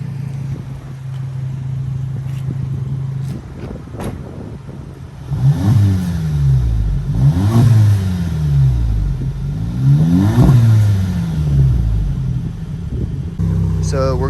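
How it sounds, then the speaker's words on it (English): A car with a Magnaflow exhaust idles, then revs three times in quick succession, each rise and fall of engine pitch loud and close, before settling back to idle. "this is a Magnaflow exhaust,"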